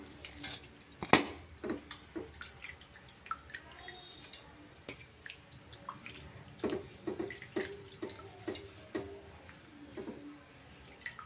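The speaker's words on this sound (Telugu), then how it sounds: "వాటర్లో వేసి నీట్గా కడుగుతున్నాను" Fresh mint leaves swished and rinsed in a bowl of salted water, with soft intermittent drips, splashes and light sloshing close by, fairly quiet and without talk.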